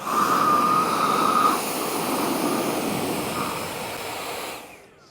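A Crest leaf blower roars steadily up close while blowing against a 13-pound bowling ball, a loud continuous rushing whine that dips slightly and then cuts off near the end.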